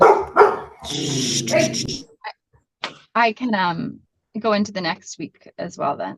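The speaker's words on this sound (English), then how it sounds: "That's my pit bull" A pit bull barks in loud, excited bursts during a judge's courtroom video meeting, mixed with a person speaking over and between the barks.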